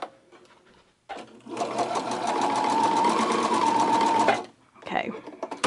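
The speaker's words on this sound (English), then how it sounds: "now I'm going to sew from this fold to this pin." A sewing machine stitches a messenger bag, its close, steady mechanical whir running unbroken for about three seconds, with a person talking briefly before and after the stitching.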